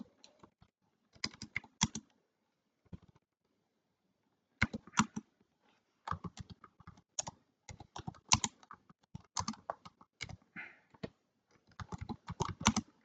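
Computer keyboard typing in short bursts of rapid, close keystrokes separated by brief pauses, clear and alone in a quiet room while text is entered into Google Docs.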